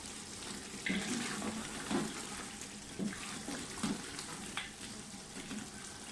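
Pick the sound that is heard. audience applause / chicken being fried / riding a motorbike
chicken being fried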